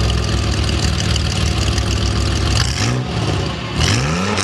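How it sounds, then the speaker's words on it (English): A DeLorean's PRV engine, fitted with a catalytic converter, revs loud and close for a few seconds, its note rising and falling twice toward the end. "This is what a DeLorean's real engine sounds like."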